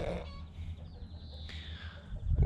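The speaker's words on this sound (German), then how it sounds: "Jetzt hat die Henne da unten ein Ei gelegt, jetzt hat es eilig gehabt." A hen on a farm clucking after laying an egg, a few short squawking calls close by over low background rumble and handling noise.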